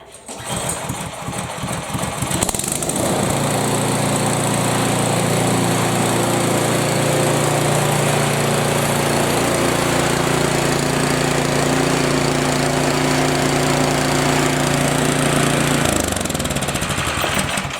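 An MTD Craftsman two-stage snowblower engine, freshly rebuilt carburetor, set on choke and primed, sputters through a couple of seconds of cranking, then catches and runs loud and steady close by before cutting back near the end.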